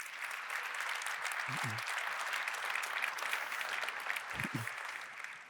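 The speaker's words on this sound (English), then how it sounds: "So please put your hands up and just give them a big clap." A large keynote crowd of about 3,000 at SAP Concur Fusion 2024 applauds award winners, a steady, even roar of clapping heard from a distance, with a couple of brief low thumps.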